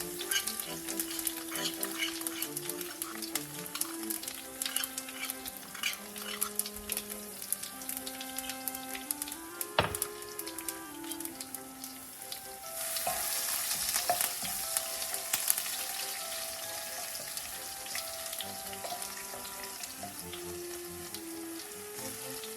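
Curry leaves and garlic crackle and sizzle in hot oil in a pan, a steady dense frying hiss with occasional stirring clinks, up close and alone without talk.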